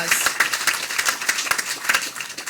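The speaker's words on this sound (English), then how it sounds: "Let's give him a round of applause." An audience claps in a round of applause at a highway bypass ribbon-cutting ceremony, a dense patter of many hands sustained through the moment with no spoken words.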